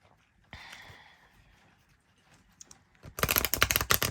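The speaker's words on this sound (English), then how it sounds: "I'm going to shuffle these real good, because I have not used these cards in a long time." Oracle cards being shuffled by hand: a brief card riffle, scattered light taps, then a dense burst of fast crisp flicking and slapping of cards at close range, with no talking.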